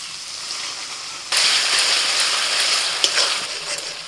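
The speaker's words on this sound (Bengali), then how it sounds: "এবার মিনিট 5 নাড়াচাড়া করে টমেটোর কাঁচা গন্ধটা চলে যাওয়া পর্যন্ত ভাজতে থাকবো" Tomato paste hits a hot pan with onion paste and starts frying, a sudden loud burst of sizzling that settles into steady crackling spatter with a few sharp pops.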